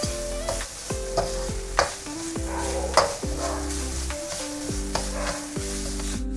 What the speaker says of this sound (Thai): จากนั้นเราจะผัดกันให้เข้ากันอีกครั้งด้วยไฟแรงนะครับ เราจะผัดให้แห้งเลยนะครับ